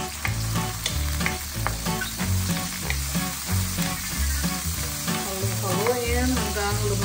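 Onions sautéing and being stirred in a pan for pinakbet, a steady close sizzle with scraping stirs and clacks throughout, loud and with no talking.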